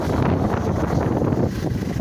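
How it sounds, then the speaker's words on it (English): Strong wind on a stormy day in Abaco, with gusting feeder bands coming through. It is a loud, close, continuous buffeting roar against the microphone and no one speaks. "It's a windy day in Abaco."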